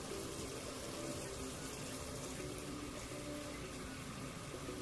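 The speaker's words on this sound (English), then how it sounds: "Let me go ahead and fill the water, fill the bucket up." Tap water runs steadily into a bucket, a continuous rushing fill that stays even and close for several seconds, with no speech.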